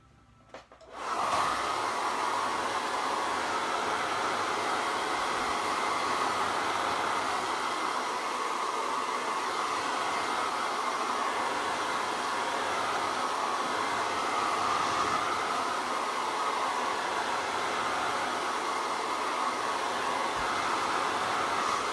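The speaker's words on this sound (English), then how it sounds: "Another quick blast with the hairdryer just to make sure it's fully dry before we draw over the top." A hair dryer blows steadily and loudly to dry paint on a botanical painting, a continuous airy whoosh that switches on abruptly and runs alone without any talk.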